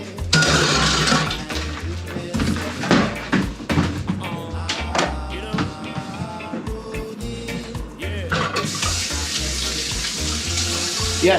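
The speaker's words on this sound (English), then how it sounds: "yes, I also do my own dishes." Tap water runs steadily into a kitchen sink while dishes are washed by hand in a small, cluttered kitchen, with clinks and splashes scattered through the continuous flow; fairly loud and close.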